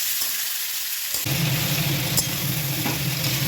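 Mango pieces for a sour-spicy pickle hit a hot pan over a raised gas flame and are stirred, a sudden loud sizzle swelling into a steady frying hiss with faint scraping.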